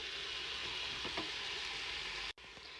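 Chopped onion sizzles in smen, a rancid butter, for a tagine, giving a constant close crackle with a couple of faint stirring scrapes and a brief drop near the end.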